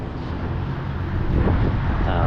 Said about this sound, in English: It's a little windy today, slightly dreary.